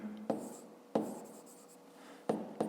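A pen writes numbers by hand while working a fifth-grade maths exercise, giving a few short, crisp scratching strokes separated by brief pauses. It is quiet and close, with no talking.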